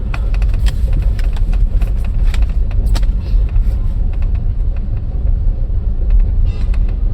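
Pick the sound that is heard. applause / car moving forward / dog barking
car moving forward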